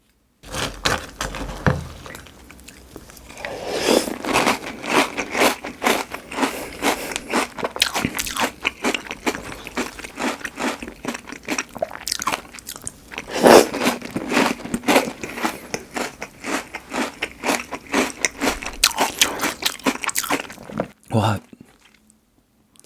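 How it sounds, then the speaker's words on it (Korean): Crunchy Cinnamon Toast Crunch cereal being bitten and chewed up close, a steady run of loud crisp crunches and crackles with brief pauses, a few quiet spoken words in between. "과연 얼마나 맛있길래 일론 머스크가 이렇게 좋아할지 먹어보겠습니다"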